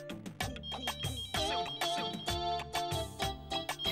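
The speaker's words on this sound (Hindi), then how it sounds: "फोन बज रहा है।" A telephone rings with a melodic electronic ringtone, repeating bright tonal bursts at a steady rhythm, fairly close and clear with no talking over it.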